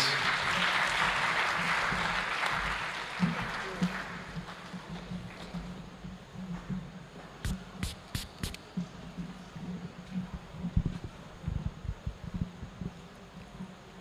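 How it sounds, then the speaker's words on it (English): An audience applauds as President Jakaya Kikwete comes on stage at the Thabo Mbeki Africa Day Lecture: broad clapping loud at first, fading to scattered, uneven claps and a few sharp pops over a low room hum. "let's give him a warm round of applause onto the stage"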